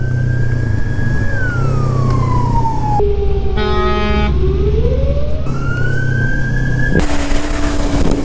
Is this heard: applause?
no